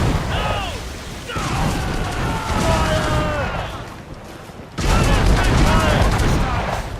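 Ship cannons fire in a naval battle in Assassin's Creed Rogue: loud, dense volleys of booming shots and crackling bursts, a heavy broadside near the end, with crew shouting under and between the blasts.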